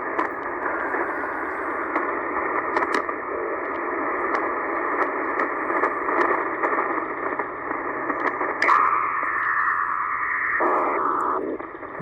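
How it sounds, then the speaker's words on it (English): Shortwave radio static hisses steadily through a scan of the 12–13 MHz band, with a buzzy banded signal and a brief tone-like carrier rising near the end, no speech. "Kind of hard to hear it with the static."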